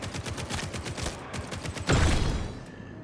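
Rapid SMG gunfire from the bullet-heaven shooter Grind Survivors, a dense stream of quick shots rattling steadily for about two seconds before a louder burst of impacts near the end, no voices.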